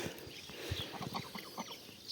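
Chickens cluck in a small farmyard kept with chicks, goats and geese, a run of soft, choppy clucks and short calls close by over a low outdoor background.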